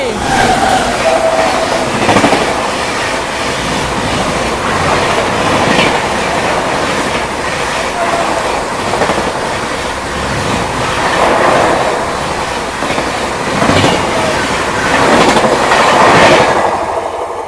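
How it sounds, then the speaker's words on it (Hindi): Howrah Rajdhani Express, an Indian Railways train, overtaking a festival special, with loud steady clickety-clack and rushing rail roar throughout and a few brief horn-like peaks, no speech. "भाई क्या ही हॉकिंग के साथ में आ रही है ओवरटेक मारने स्पेशल फेयर को हावड़ा राजधानी।"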